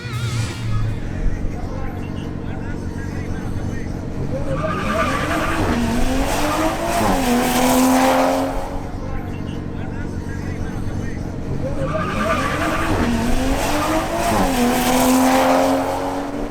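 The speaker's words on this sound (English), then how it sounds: "the xDrive BMW M340i of Angel Molina faces off against the BMW M340i of Julian Prado." Two BMW M340i cars, one with xDrive, racing side by side, with loud engine roar rising through the gears and sustained tire squeal, while a voice talks over the noise.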